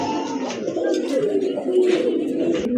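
A yellow pair of Lahori pigeons in a loft coo in soft, continuous throaty rolls, fairly close and steady, with a faint twitter of other birds around them.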